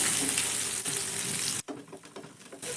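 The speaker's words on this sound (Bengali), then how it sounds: "এখানে দিয়ে দিচ্ছি একটা মিডিয়াম সাইজের ক্যাপসিকামের অর্ধেক পরিমাণ ক্যাপসিকাম একটু ছোট ছোট করে কুচিয়ে নিয়েছিলাম, এর মধ্যেই দিয়ে দিলাম।" Chopped capsicum, half of a medium pepper, sizzles in hot oil in a frying pan, a steady close hiss with brief stirring that drops out partway through, then returns more faintly.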